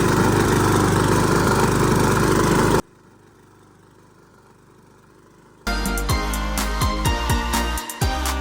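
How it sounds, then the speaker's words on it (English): A loud lawn mower runs steadily while mowing grass, cuts out to near silence for a few seconds, then roars back up close and loud. "I'll put in like a little clip of what mowing the grass sounds like. My mower is quite loud."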